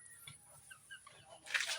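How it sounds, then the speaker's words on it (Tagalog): A few soft, quiet clucks from chickens close by, with a brief brighter rustle near the end. "Ayan, may mga manok ako rito."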